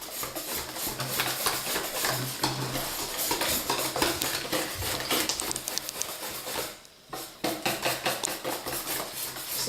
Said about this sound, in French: Et on y va pareil, énergiquement.